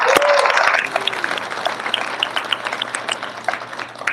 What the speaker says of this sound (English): So give them both a round of applause.